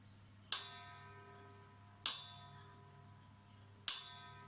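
Three slow, separate strikes on a steel mixing bowl, each a bright metallic ping with a long shimmering ring-out.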